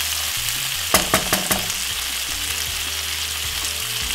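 Salt fish with vegetables and fresh thyme frying in a pan, a steady close sizzle with a few quick clinks of a utensil near the start.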